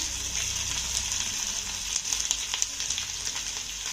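Garlic and green chili paste crackles and sizzles in hot oil in a tempering with cumin seeds and curry leaves, a steady dense frying hiss with small pops close by, cutting off abruptly at the end.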